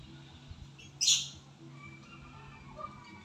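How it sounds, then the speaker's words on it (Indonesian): Inside a bird pavilion at an eco park, one sharp, loud squawk stands out from faint, distant chirping and a low background murmur. "Burung-burungnya banyak ya."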